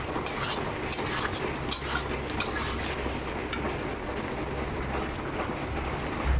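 Fried potatoes being stirred in oil for Kashmiri aloo dum, a dense continuous sizzle with repeated light scraping and clinking of a spoon against the pan.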